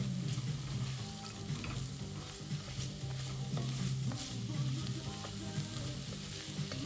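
Garlic stirred into a hot soup pot on the stove, a steady close sizzle and crackle with soft continuous stirring scrapes running through the whole stretch.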